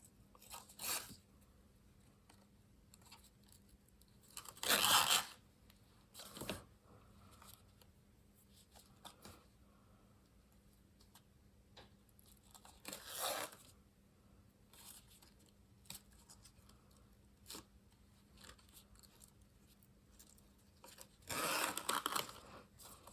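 Scissors snip at an angle through red sheer ribbon in a few short, crisp bursts spread apart, with quiet pauses between cuts.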